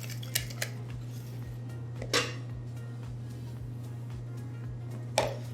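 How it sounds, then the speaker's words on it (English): Egg white being beaten for a cappuccino tart, with sugar added gradually: a steady mechanical hum with a faint low pulsing runs throughout, and a few sharp clinks of utensils against the bowl come through. "I'm going to start to beat my egg white and adding progressively the sugar"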